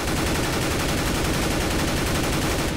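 Rapid, continuous automatic fire from an M4 rifle in the game Counter-Strike: Global Offensive, loud and dense with fast regular shots throughout, no voices.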